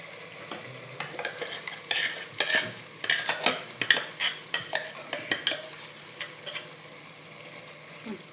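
A spoon scrapes and clanks rhythmically against a cooker as masala is stirred into menthe bath rice, steady repeated strokes over a faint sizzle, close and clear with no talking.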